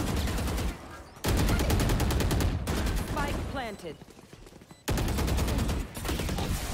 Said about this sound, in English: It's a gunfire.